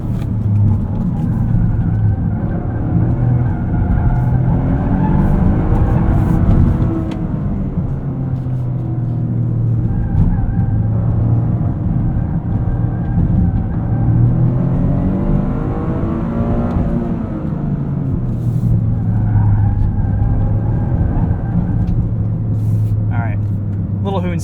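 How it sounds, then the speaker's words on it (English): A 2023 Toyota GR Corolla driven hard on a circuit: the engine roars close up, revving and dropping repeatedly through gear changes. A voice comes through over the engine at times. "Little hoon session in a GR Corolla gives you guys a taste of what this thing is like"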